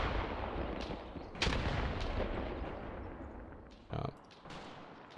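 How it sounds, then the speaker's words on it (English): Heavy explosions and bursts of gunfire in the Mius Front battlefield game, one of them an anti-tank grenade blast, rolling on in a dense, loud, continuous barrage with a sharp crack near the end. "that's a big anti-tank grenade"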